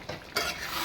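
Chicken with whole green chillies is stirred and sautéed in a pan for mango chicken: a soft scrape, then a sudden louder burst of sizzling that holds steady.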